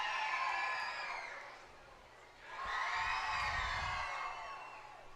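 A baseball crowd at Phil Welch Stadium cheers and whoops as St. Joseph Mustangs players hype up the stands during a game against the Chillicothe Mudcats. Two loud waves of shouting and high cheers rise, dip and fade slightly.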